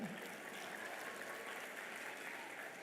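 An audience claps at a school function, a dense, even patter of many hands, moderately distant and fairly soft, sustained without a break.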